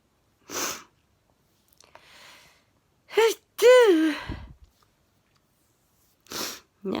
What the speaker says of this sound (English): Sneezing so hard.